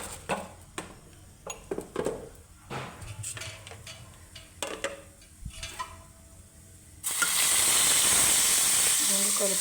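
Tempering seeds and turmeric hit hot oil for pachipulusu, first scattered clinks and light handling noises, then a sudden loud, steady hissing sizzle that fills the last few seconds.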